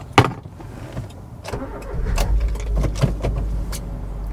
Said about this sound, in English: Started on the key, obviously.